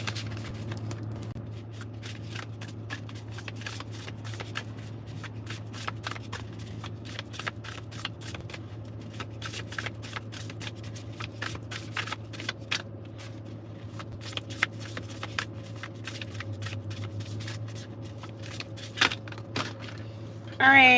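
An oracle card deck being shuffled, a quick run of crisp riffling clicks and card flicks that stays close and fairly quiet over a low steady hum, with a louder burst right at the end.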